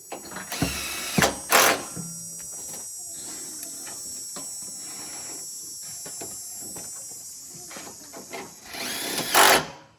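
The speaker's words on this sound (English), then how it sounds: "I'm going to screw the intercooler back in because that's done." A power tool on a Cummins dually truck whirs in short bursts as the intercooler is screwed back in, with a couple of sharp pulses near the start and another near the end over a steady background hiss.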